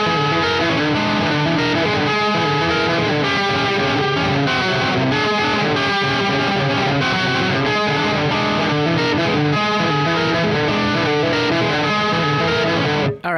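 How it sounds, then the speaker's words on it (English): Electric guitar pedal-tone riff built on a hammered-on note left to sustain while other strings are tapped, played with distortion and effects; a dense, continuous run of fast repeating notes plays steadily throughout. "where you do a hammer on and then you let that note sustain while you tap on other strings that are not being sustained"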